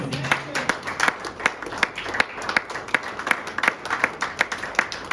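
Church congregation applauding during a worship service, rhythmic handclaps from many people at a steady beat, with voices mixed in throughout.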